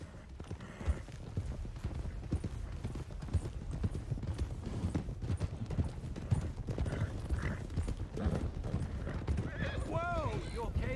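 Horses galloping in Red Dead Redemption 2, a dense continuous clatter of hooves with a horse's whinny rising near the end, loud and close with game ambience underneath.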